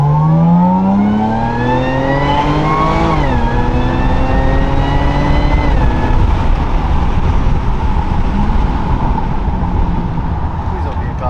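Tuned Jaguar F-Pace S SUV with an aftermarket tune and crank pulley accelerating hard, engine note climbing loud and close through gear changes, then settling into a steady roar with tire and road rumble.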